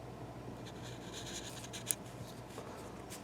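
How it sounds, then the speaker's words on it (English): Thick Sharpie marker drawing lines on paper, soft scratchy strokes repeating quietly and close, with one brief sharper tap partway through. "we'll start off with these the thick Sharpie markers"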